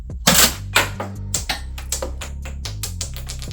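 A LEHUI Beretta 1301 Tactical toy shotgun snaps off a string of sharp plastic shots toward a window, the first two loudest, then lighter clicks and thuds following in an uneven rhythm close by.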